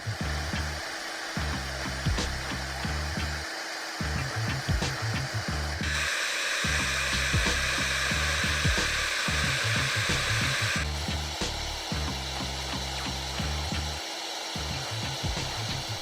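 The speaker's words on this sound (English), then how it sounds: "Now we are going to make additional welds to get strength." A hot air plastic welder blowing while making repair welds on motorcycle plastic, a steady loud roaring hiss with a humming motor drone, brightening for a few seconds midway, close up with no talking.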